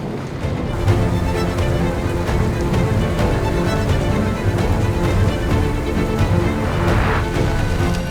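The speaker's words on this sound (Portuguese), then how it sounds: "a gente tá com o motor ligado agora" A sailboat's engine runs at sea with a steady low mechanical drone and some wind and water noise mixed in, continuous and fairly loud throughout, with no voices.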